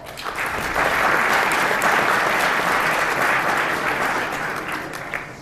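Applause at a sports team's end-of-season banquet, dense, steady clapping from a large room that swells quickly and holds for several seconds before tapering off.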